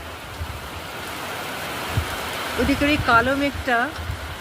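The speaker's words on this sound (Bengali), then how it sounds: "জোরে নামলো বৃষ্টি।" Heavy rain pours down outdoors in a broad, steady wash of noise, with a person talking over it partway through.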